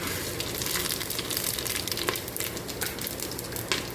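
Spices tempering in hot oil and ghee for a vegetable biryani give off a steady, dense sizzle with scattered sharp crackles and pops, close and continuous throughout, with no talking.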